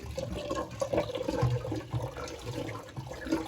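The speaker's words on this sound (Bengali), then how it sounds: "আর এখন আমি চালটা ধুয়ে নেব" Continuous sloshing and swirling water as rice is washed by hand in a pot, with uneven splashy surges, close and fairly quiet with no voices.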